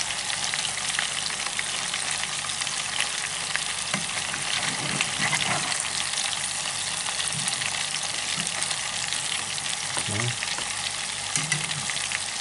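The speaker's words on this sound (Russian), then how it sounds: "как будто жарятся мясные котлеты" Fish cutlets made from ide sizzle steadily in hot oil in a pan, a dense continuous frying hiss with occasional soft clinks and pops, close up, no speech.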